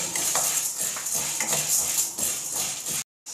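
Chana dal is dry-roasted in a pan over a medium flame. The lentils rattle and scrape close up in a steady, irregular clatter against the metal, and the sound stops abruptly just before the end.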